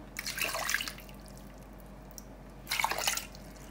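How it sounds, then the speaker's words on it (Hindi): Water pours and splashes into a pot of fresh plums in two separate bursts, with a quiet pause between them, close by and without talking. "पानी ऐड कर लेंगे।"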